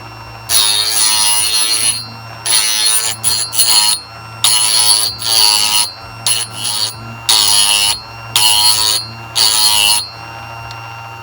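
A Ferrex/Scheppach GS650 multi-function sharpener grinds a blade in a run of loud, harsh bursts of a second or so, each separated by short pauses, over the steady whine of its motor.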